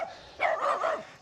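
A dog gives a single loud, close bark, a short two-part yelping woof, alone with no talk.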